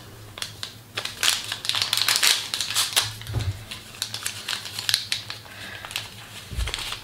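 A wire whisk beats 375 g of melted butter and milk in a salad bowl, making rapid, continuous clattering clicks against the bowl that come in uneven bursts, close and fairly loud.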